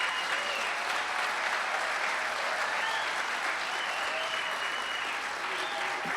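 Sustained applause from a large audience for a chairman at a casino opening day, steady and dense across the whole stretch with no gaps, a continuous wash of clapping hands.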